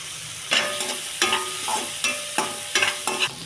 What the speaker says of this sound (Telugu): ఇంత వేగిన తర్వాత ఆనియన్స్ కూడా వేసేసుకోండి